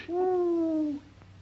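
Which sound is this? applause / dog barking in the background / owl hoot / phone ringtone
owl hoot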